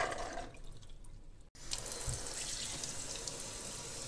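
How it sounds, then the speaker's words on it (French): Water running from a tap over soaked almonds in a sink, a brief pause then a steady splashing stream, close and fairly quiet, without any speech. "Ensuite, je vais bien les rincer, donc jeter l'eau"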